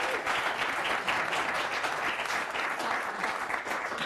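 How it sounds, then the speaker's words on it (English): Steady applause from an audience at an astronomy talk, a dense wash of clapping that stays even and fairly loud throughout. "Maybe some applause for them."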